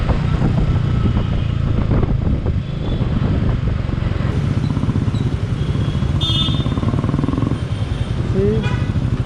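A Royal Enfield Meteor 350 motorcycle rides along with a steady engine drone and road rumble, loud and constant, with wind noise over the top throughout.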